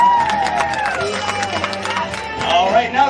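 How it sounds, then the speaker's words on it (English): Crowd applause and cheering at a Miami Seaquarium diving show, steady clapping across the whole stretch with a loudspeaker voice carrying over it. "How about a round of applause for Mike Freeze?"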